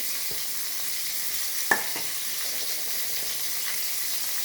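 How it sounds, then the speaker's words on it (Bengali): Pieces of catla fish frying in hot oil, giving a dense, even sizzle throughout, with one brief clink near the middle and no talk. "মাছগুলো ভেজে নিয়ে আসছি"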